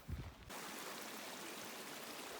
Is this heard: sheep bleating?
no